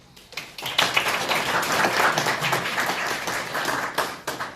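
Audience at a party branch council session applauds to welcome guests, a dense, steady wash of many hands clapping from a hall crowd that swells quickly and holds, then thins out near the end.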